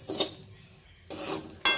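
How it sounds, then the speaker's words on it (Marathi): Rock salt is dry-roasted and stirred in a kadhai, giving close, gritty scraping bursts separated by a short pause. "खडे मीठ जरी वापरलं तरी ते सुद्धा असं कढईमध्ये चांगलं कोरडं होईपर्यंत असं गरम करून घ्यायचं"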